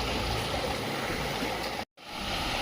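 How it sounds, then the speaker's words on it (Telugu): A forest stream and mini waterfall in the Nallamala forest near Srisailam rush in a loud, continuous close wash of water that cuts out briefly near the end before resuming. "వాటర్ సౌండ్ వినండి."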